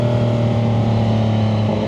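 A Triumph 675SS motorcycle fitted with a full IXIL exhaust runs loud and close, its engine note a steady dense roar with a strong low drone throughout and no voices.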